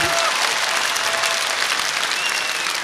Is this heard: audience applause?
yes